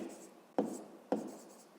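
A pen writes out a maths formula during a lesson, with short scratchy strokes and two sharp taps as the pen touches down. The sound is close and quiet.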